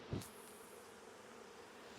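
Bees buzzing from a swarm being boxed in July, a steady low hum close by with soft knocks and handling bumps at the start and end.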